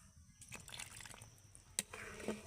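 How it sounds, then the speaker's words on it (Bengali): Cornflour mixed with water is poured into a simmering date chutney being made for doi fuchka, giving a brief, soft liquid pour with a few light drips and small clinks, close and fairly quiet. "এবার আমি চাটনিটাকে আরেকটু ঘন করার জন্য কর্নফ্লাওয়ারগুলো জলটা দিয়ে দেব"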